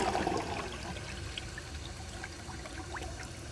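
Water rushes and gurgles in a 1999 comfort-height Universal-Rundle Atlas toilet as it flushes. The flush is loudest at the start, then settles into a steady trickle and swirl.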